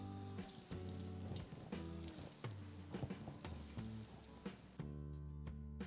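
Marinated paneer pieces deep-fry in hot oil with a dense, crackling bubbling that fills the clip loudly and close, eases briefly in places and continues to the end with no talk.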